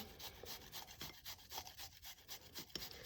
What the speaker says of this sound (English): So then I just grate some garlic also